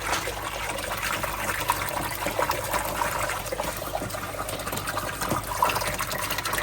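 Water filling a plywood pond, a steady soft trickle and gurgle at moderate level, running continuously with no voices.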